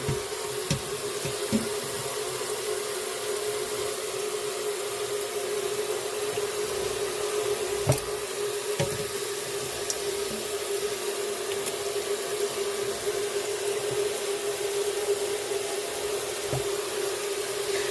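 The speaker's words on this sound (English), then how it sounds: "I'm using some good hot water there." Hot water runs steadily from a kitchen tap into a sink, a constant close rushing hiss with occasional faint knocks and clicks.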